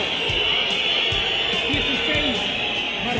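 A large stadium crowd at an Osorno vs Puerto Montt football match roars and boos in a steady, dense wash of noise, with voices rising and falling throughout.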